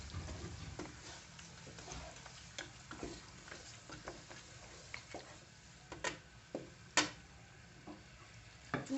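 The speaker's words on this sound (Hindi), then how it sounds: "अब जो हमने अपना मसाला भून के रखा था उसमें हम अपना गोश्त ऐड करेंगे" Beef pieces frying in a karahi of spiced masala, with a steady low sizzle broken by scattered crackles, pops and stirring clicks that grow sharper toward the end.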